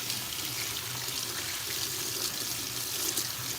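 Running water pours steadily from a tap over a wig being rinsed, a constant close splashing hiss with no pauses.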